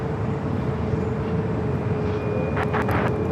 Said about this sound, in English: Airbus 350 departing the parallel.